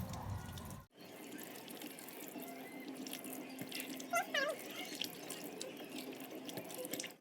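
Tap water runs steadily into a sink during surgical handwashing, a continuous splashing flow that starts abruptly after a brief thump and carries on with faint clinks underneath.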